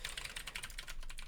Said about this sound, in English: so you can see what I'm typing